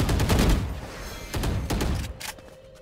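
Gunfire rings out in the tactical shooter Valorant in two short bursts of rapid shots, one at the start and one about a second later. Both are moderately loud, and there is no talking over them.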